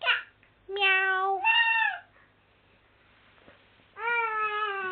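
A voice imitates a cat's meow with drawn-out, pitch-bending calls, two in a burst, then a pause and another meow.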